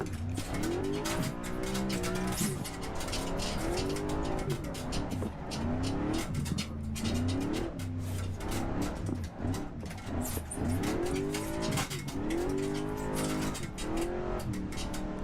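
F4 race car drifting at Virginia International Raceway, a loud high-revving engine with rising and falling pitch sweeps and tire squeal, continuous and close throughout.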